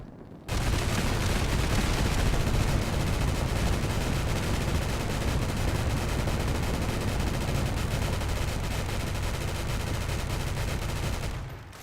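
A Fallout 4 overkill gun fires a sustained, very loud barrage for about eleven seconds, a dense continuous roar of rapid shots with no pauses.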